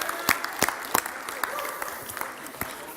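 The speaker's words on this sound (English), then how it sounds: "Give yourself a round of applause." A small gathering claps at a business seminar, with a handful of sharp, scattered hand claps ringing out over a quiet room rather than a full ovation; the sound is fairly faint and sparse.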